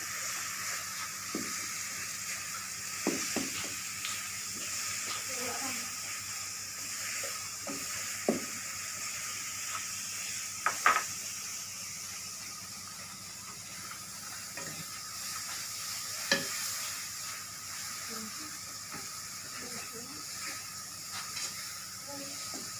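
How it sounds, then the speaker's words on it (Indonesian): Bawang rambut is stirred in a sizzling pan at a local food menu cooking contest, with a constant soft frying hiss and scattered faint scrapes and clicks of the utensil. "kita masukkan bawang rambut ini, kita aduk sambil kita masak"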